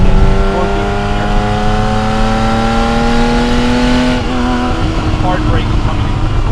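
A Porsche 911SC coupe's engine revs and pulls hard on a spirited drive, its rising harmonic whine climbing steadily, then dropping briefly near the end as a gear change and braking into a corner are heard; loud and close from inside.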